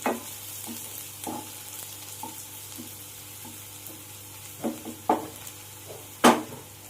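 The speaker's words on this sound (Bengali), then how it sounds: "পেঁয়াজটা যতক্ষণ না লাল হচ্ছে আমি এইভাবেই ভাজতে থাকবো" Onions fry in a pan for a prawn dish, a steady low sizzle broken by occasional scraping stirs and a sharp clink of the spoon against the pan near the end.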